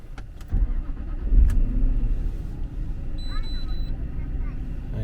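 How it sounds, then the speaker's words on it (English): A Jaguar S-Type R, raised on four axle stands, starts up with a brief cranking burst and settles into a deep, steady idle rumble, heard up close. "I'm just going to start her up."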